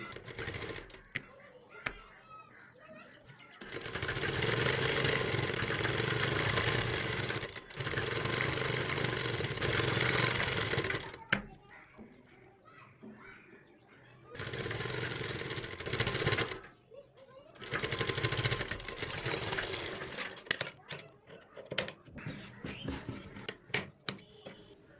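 Sewing machine stitching dori piping along the edge of a kurti, running in several sustained bursts of steady whirring separated by brief pauses, close up and moderately loud.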